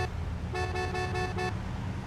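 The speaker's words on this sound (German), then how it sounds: "Die Hupe gilt auch für hinten." Car horn honking in the Mafia 2 video game, a steady harmonic blare sounding in about four quick pulses over a low engine and traffic rumble, with no talking.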